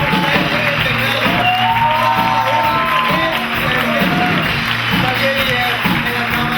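A live audience applauds and cheers for a band after a song premiere, the clapping and whoops steady and loud while a voice talks over the crowd.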